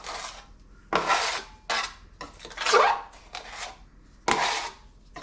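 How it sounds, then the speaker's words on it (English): Joint compound stirred by hand, a scraping, rubbing slosh in bursts of about half a second to a second, separated by short pauses, close and moderately loud, with no voices. "Keep mixing it around."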